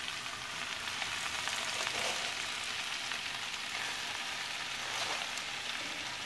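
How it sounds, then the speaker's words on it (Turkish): Mallow leaves and tomato paste fry in a pan, giving a steady close sizzle with faint stirring scrapes and no talk. "Salçamız da kavruldu. Şimdi ebegümeçlerini ilave edebiliriz."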